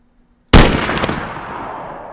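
A single loud blast from a big gun in the zombie survival game DayZ, sharp close report after near silence, followed by a long ringing decay.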